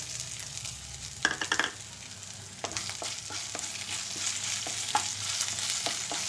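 Crushed ginger and garlic with cumin seeds fry in hot oil in a pan for tomato chutney, giving a steady close sizzle with a few sharp stirring clatters and scrapes.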